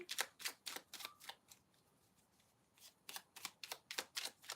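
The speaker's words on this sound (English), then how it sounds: "let me pull a couple cards here for Julian" Tarot cards drawn and shuffled from a deck during a live reading, a run of crisp close flicks and riffles, then a quiet pause, then another rapid burst of card snaps.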